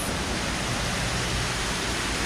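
Waterfalls in the aquarium of the Guadalajara Zoo give a steady, broad rushing hiss, continuous and fairly close, with no talking.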